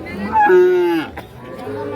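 A single loud, close cow moo with a falling pitch at a crowded cattle market of young bulls and heifer calves, followed by quieter background sounds.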